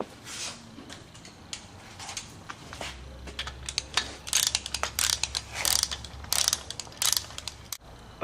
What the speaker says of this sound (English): I'm torquing the main cap to 65.